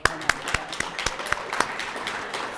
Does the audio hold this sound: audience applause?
yes